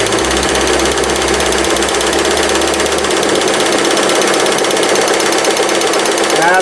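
A vintage Singer 401A sewing machine fitted with a free motion embroidery foot stitches Sulky metallic thread in a loud, fast, continuous mechanical whirr and chatter, close and steady throughout.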